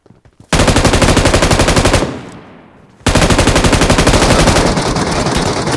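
Rapid automatic gunfire in PUBG Mobile, a loud close burst of about a second and a half, a brief tail, then a second long sustained burst, with no talking.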